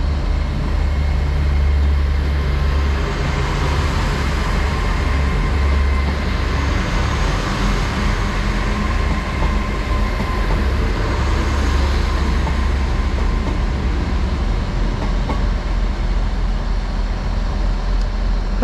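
Great Western Railway class 800 units 800 007 and 800 020 pull out of Exeter St Davids on the 16:15 service to London Paddington, giving a steady, loud rumble that holds evenly throughout with no voices.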